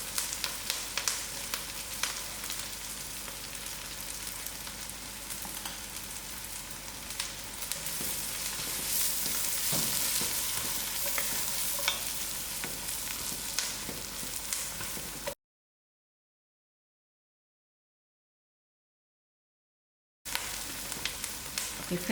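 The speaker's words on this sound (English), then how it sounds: "I'm going to put in 2 teaspoons of the dry stock to fry with." Vegetable stew base frying in a pot with two teaspoons of dry stock added, a steady close sizzle and crackle that swells in the middle, briefly cuts to silence, then resumes.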